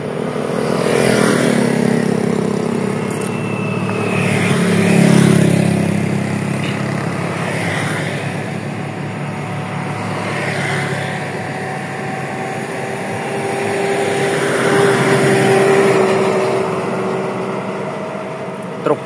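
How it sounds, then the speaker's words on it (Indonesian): A racing car engine roars loudly and continuously, swelling and easing in long revving surges with a hint of distant whine, alone without talk. "sekali suara mobil balap."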